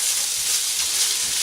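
Breakfast fried rice fries in a hot pan, giving a loud, continuous close-up sizzle and crackle with no talking.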